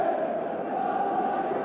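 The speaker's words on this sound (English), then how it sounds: "Quite a hubbub of noise from the crowd." A large football crowd at a 1990 Sunderland versus West Ham match creates a steady roaring hubbub during a Sunderland corner, continuous and fairly distant under a broadcast feed.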